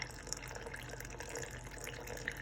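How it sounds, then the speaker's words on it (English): Cool water from a kettle is poured into all-purpose flour for a sourdough starter, giving a faint, steady trickling splash with a few small drips, close by and quiet, with no voices. "This is cool water, it's just in the kettle."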